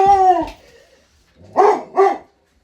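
A dog on alert gives one long, howling bark, then two short, sharp barks after a pause. All three are close and loud, with no talk.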